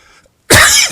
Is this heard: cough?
yes